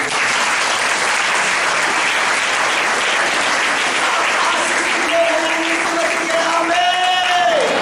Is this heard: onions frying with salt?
no